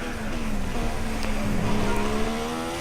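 Formula 1 car engine from the F1 2016 racing game on a Monaco qualifying lap, a steady loud high-revving drone with rising and falling pitch as gears shift, alone without talk.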